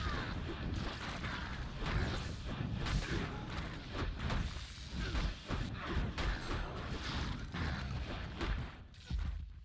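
Paladin sacrifice explosions in the video game Project Diablo 2 give dense, continuous bursts of crashing, thumping impacts and whooshes, loud and close with no pauses across the stretch.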